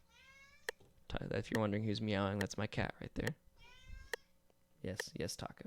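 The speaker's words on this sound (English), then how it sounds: "If you're wondering who's meowing, that's my cat right there." A cat meows repeatedly nearby, a few drawn-out cries, while a person talks softly between them.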